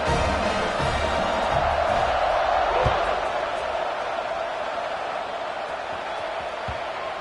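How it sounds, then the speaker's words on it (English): A football stadium crowd at a Mizzou game buzzes after a score, a broad steady roar of many voices with occasional thuds, loud and continuous throughout. "this crowd is buzzing after that last score"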